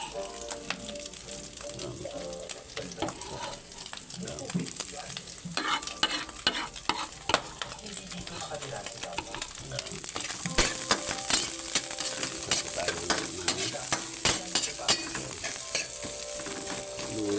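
Ground meat sautéing with onion and garlic in a hot pan, a steady crackling sizzle broken by frequent scraping and clacking stirring strokes, close and continuous.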